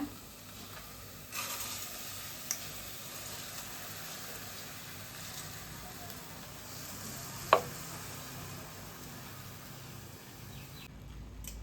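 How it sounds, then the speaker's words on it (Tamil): Soaked rice and lentils being stirred into a spice paste frying in a pot for paruppu sadam: a soft, continuous sizzle with faint scraping, and a couple of brief sharp clinks of a spoon against the pot. "இந்த அரிசியும் பருப்பும் பேஸ்ட்டோட நல்லா கலந்து விட்டுக்கலாங்க"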